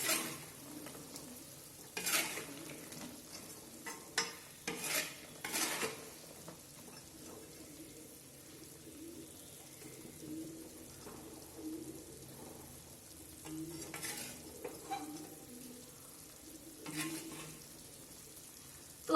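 Sweet paak being stirred through sugar syrup in a pan, with scraping and clicking strokes that come in short clusters amid a faint, steady sizzle.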